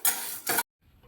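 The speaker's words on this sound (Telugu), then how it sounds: "మొత్తం కలిపి వేయించుకుందాం." Horse gram and spices roasting in a pan, stirred in two short scraping bursts that then cut to near silence with only a faint rattle.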